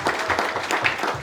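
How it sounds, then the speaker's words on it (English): Audience applause at a football Q&A evening in a pub venue, a broad wash of clapping from a crowd that carries steadily through the short moment with no voices standing out. "Can we have a big clap for Cara, everybody?"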